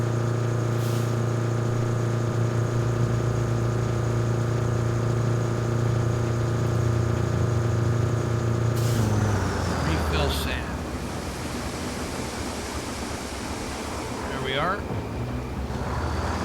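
A truck engine in the video game Roadcraft idles low with a steady tonal hum, then shifts into rougher, noisier rumbling and whooshing, loud and close throughout.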